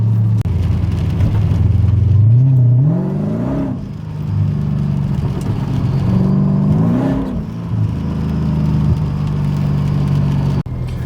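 Mercedes CLK55 AMG with a swapped M113K engine accelerating, two loud close pulls where the engine note climbs and winds up, separated by a lower rumble.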